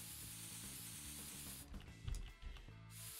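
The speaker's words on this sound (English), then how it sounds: "I'm gonna spray it all over." Upholstery spray hisses onto a car seat in Car Detailing Simulator, a soft, steady spray that breaks into a few short bursts near the end, faint and with no talking.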